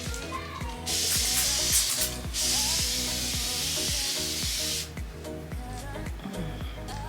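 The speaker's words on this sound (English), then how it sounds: "I'm going to drench, and I do mean drench my face into the setting spray" Setting spray misted onto a face in two long bursts of bright hissing spray, with a steady rhythmic beat of background music continuing throughout.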